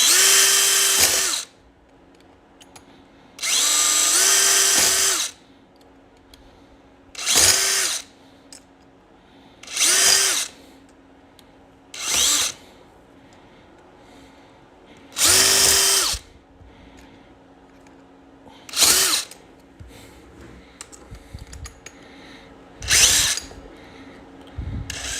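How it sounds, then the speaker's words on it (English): A handheld power drill runs in about nine separate bursts, each a loud whining spin lasting one to two seconds, with quiet pauses between them and no voices. "Don't drill the key."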